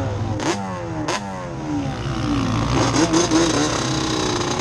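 A motorcycle engine revs hard during a drag run at a MotoGP track, with two sharp bursts and then a sustained rising, accelerating roar through the gears, loud and close.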